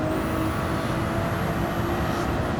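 A Ferrari 296 racing in Gran Turismo 7 gives a continuous, loud, steady engine drone with no breaks.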